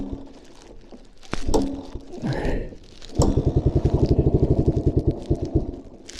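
A 1980 Yamaha XT250 single-cylinder engine idles close by during carburettor testing, settling into an even, rapid thumping pulse after a few scrapes and knocks.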